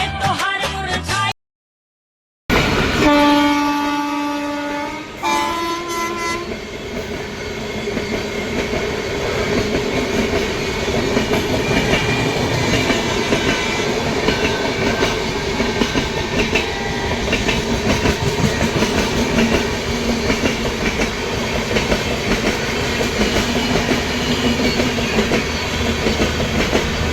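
A crowded local train runs at Shivnarayanpur station in Bihar. Rhythmic clickety-clack from the wheels on the rails and a sustained rolling rumble continue steadily and loud after a brief opening tone, with no talk.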